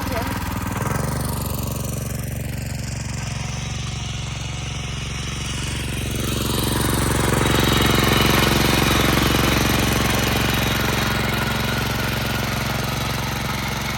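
Tractor engine running steadily during wheat sowing in a farm field, a continuous loud mechanical drone with rapid knocking throb that swells slightly midway, with faint voices underneath.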